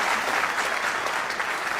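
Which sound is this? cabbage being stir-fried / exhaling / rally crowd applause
rally crowd applause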